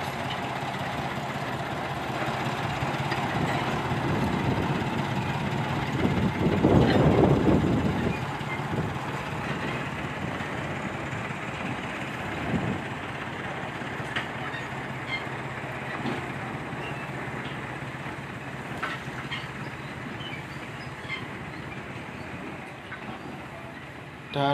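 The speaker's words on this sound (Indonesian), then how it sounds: "Nah, lokomotif melaju perlahan." Sugar mill locomotive from PG Wringin Anom Situbondo rolling slowly at PG Semboro Jember, a steady low engine rumble with a louder swell midway and faint clanks, continuous throughout.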